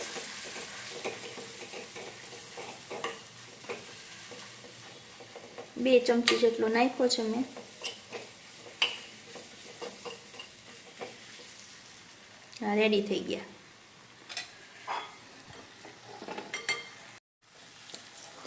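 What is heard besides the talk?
stirring chickpea flour mixture in a frying pan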